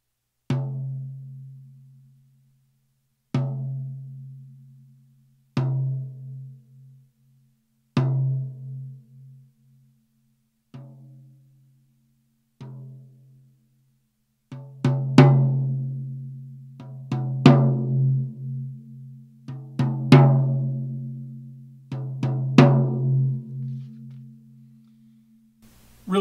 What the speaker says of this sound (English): Really similar sound between the two drums.